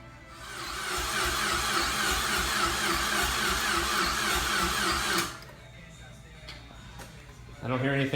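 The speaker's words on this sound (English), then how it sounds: "Gonna go ahead and prime the motor." A Mazdaspeed 6 engine is primed before its first start, giving a steady loud whirring, pulsing drone for about five seconds that cuts off abruptly, leaving quiet rustling and a brief buzzing burst at the end.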